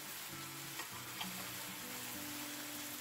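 A large red pepper sweats in a frying pan with a soft, even sizzle that holds steady throughout and stays quiet, with no talking.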